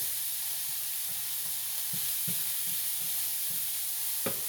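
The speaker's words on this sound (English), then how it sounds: "Okay, let me stir this." A spoon stirs a keto tuna casserole after spicy brown mustard goes in, making soft scraping taps spaced every half second or so over a steady background hiss, with a sharper knock near the end and no talking.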